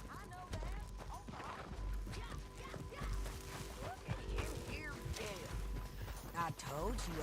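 Horse hooves clip-clop beneath urgent voices and shouting in the video game Red Dead Redemption 2, with a low hum and occasional crashes in the background.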